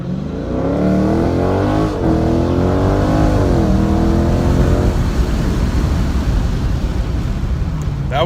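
A Dodge Demon 170 launches hard from 0 to 60 on a public street in street mode, its engine roaring loud and close as it climbs rapidly through the revs and shifts, then falls away into a rushing, rumbling cruise.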